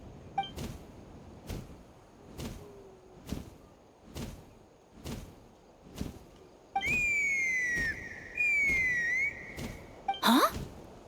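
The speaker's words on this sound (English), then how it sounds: "That sounded like a whistle." A whistle for summoning a Kukasaur in Genshin Impact, sounding as sustained tonal whistle bursts late on, set against a regular series of sharp thwacking footfall-like hits and a brief rising chirp near the end.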